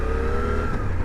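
A 2023 Suzuki V-Strom motorcycle engine runs with a smooth, steady, quiet drone, continuous and close for about a second with no talk.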